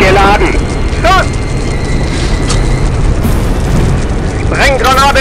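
Loud, continuous rumbling engine noise with heavy low booms of a Panzer III tank cannon in a video game, punctuated by short German radio-style voice bursts amid mechanical roar.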